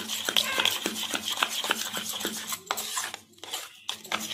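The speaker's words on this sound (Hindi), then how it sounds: "इसको अच्छी तरह से फेंट देंगे" Idli batter being beaten by hand in a metal kitchen vessel after salt is added, with quick repeated clinks and scraping strokes against the pot, close and fairly loud, alone.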